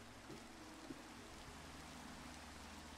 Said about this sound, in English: It's kind of hard to sleep in here when there's rain.